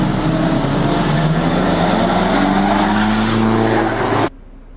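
A car approaches and passes by close, its engine and tire roar growing steadily and building throughout before cutting off abruptly near the end.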